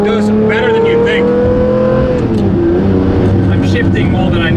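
A Lamborghini Murcielago driven hard through the canyons around LA, its engine loud and close with a steady roaring drone that rises and dips through gear changes, while a voice talks over it.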